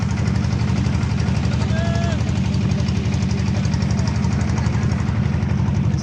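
A motor boat engine chugs steadily and loudly with a fast, even thump, constant for the whole stretch, as the boat crosses toward the far bank on a river journey from Rajbari to Pabna.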